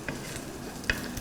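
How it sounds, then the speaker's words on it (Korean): Fried tofu pouches are stir-fried in a pan and pushed around with a silicone or wooden spatula, making a soft, close sizzle broken by two quick scraping knocks. "충분히 겉면이 노릇노릇 익을 때까지 볶아주세요."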